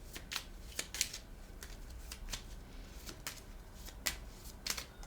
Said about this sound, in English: This little deck is so tricky to shuffle sometimes.